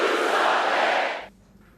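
Loud roar of a political convention crowd cheering and yelling for Michelle Obama at the Democratic National Convention, a dense sustained wall of voices that cuts off abruptly near the end, leaving quiet room noise.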